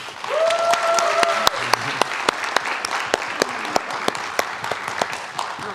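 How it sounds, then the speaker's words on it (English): A convention panel audience at PonyCon Holland claps for the musicians on stage, with sharp individual claps standing out over a thinner background of applause, and a voice speaking briefly near the start. "give a round of applause for the amazing musicians up here"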